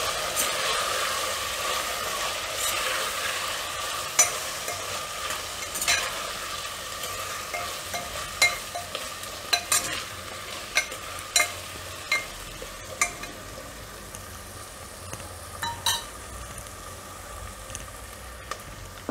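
Coriander-cumin powder and salt stirred into a guvar bean and potato curry in a pan, a continuous near sizzle under a series of light spoon taps and scrapes against the pan, no voices.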